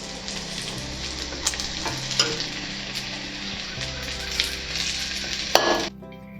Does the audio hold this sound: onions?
yes